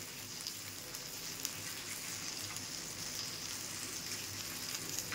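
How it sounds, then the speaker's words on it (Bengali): Bhetki fish paturi wrapped and frying in a pan gives a steady, even sizzle with fine crackling, continuous and close, with no voices over it. "চাপা দিয়ে দিয়ে ভেজেছি, হয়ে গেছে"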